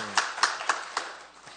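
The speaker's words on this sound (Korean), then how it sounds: "박수 쳐드립니다." A few sharp hand claps from a church congregation during a Bible study service, about four in a quick uneven run, fading out as the brief applause trails off.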